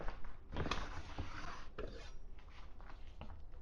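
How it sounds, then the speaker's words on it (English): A kitchen knife saws through two slices of Wright's bacon on a cutting board, producing close rasping, scraping strokes with occasional board taps, no talking. "I'm going to take 2 slices of the Wright's bacon that I have here. I'm going to cut it up"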